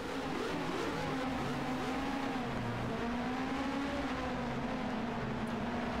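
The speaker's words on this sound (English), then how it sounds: "And the V6 engine's got the juice." A V6 race car engine at the 2023 Mexico City Grand Prix holds a loud, continuous whine, its pitch rising and falling as the car accelerates and brakes.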